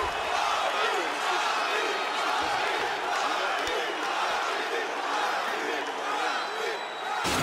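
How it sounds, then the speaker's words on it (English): Game crowd in EA Sports UFC 4 roaring and cheering between rounds of a championship fight, a dense, steady wash of arena noise that stays loud throughout. "So the crowd voicing its appreciation after that round."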